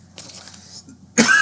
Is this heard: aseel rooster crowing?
no